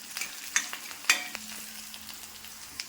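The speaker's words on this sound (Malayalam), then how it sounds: "വറ്റൽമുളക്, കറിവേപ്പില, ചെറിയ ഉള്ളി നന്നായിട്ട് ക്രിസ്പി ആയിട്ട് മൂക്കണം" Shallots, dried red chillies and curry leaves fry crisp in a pan with a steady, soft sizzle and a few sharp crackles and pops, close and fairly quiet.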